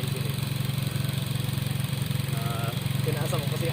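A motorcycle engine idles in a steady, even low putter close by, while a rider coaching friction-zone riding talks over it.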